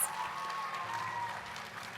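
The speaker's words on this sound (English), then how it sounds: "Let's have another round of applause for our lovely contestants." Sustained audience applause for teen pageant contestants at the Miss Teen Spanish Fork evening competition, a steady wash of many hands clapping from a crowd, unbroken and moderately loud, with no talking.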